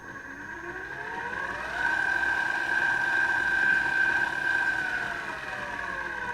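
A Banggood weld positioner's small electric motor whirs steadily with a thin, sustained whine that rises in speed and holds, fairly quiet and alone.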